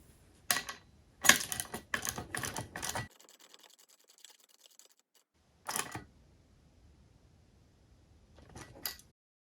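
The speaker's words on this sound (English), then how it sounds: "back to my 3/8 ratchet and 17mm socket, I'm going to secure each of those bolts." A 3/8 ratchet with a 17mm socket tightens bolts on a jet ski roller stand. Quick bursts of sharp ratcheting clicks come in several close runs, separated by quiet gaps.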